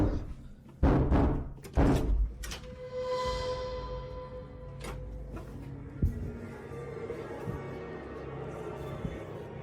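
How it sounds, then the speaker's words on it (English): Doors are banged inside a home: a few heavy thuds and slams early on, then a lingering resonant ring and quieter background, no talking. "The banging wasn't just on one door either."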